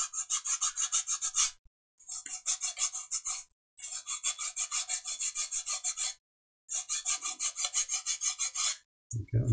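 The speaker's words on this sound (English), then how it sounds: "So I'm just going to hand hold it and just sand those sides down." Hand sanding a 45-degree bevel on the sides of a model aircraft fuselage, a rapid, raspy back-and-forth rubbing in four long runs separated by short pauses, close and steady with no talking.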